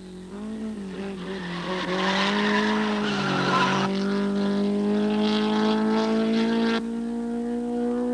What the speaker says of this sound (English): Moffat has a locking brake and punishes his tyres.